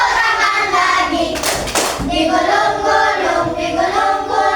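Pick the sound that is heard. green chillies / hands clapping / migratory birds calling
hands clapping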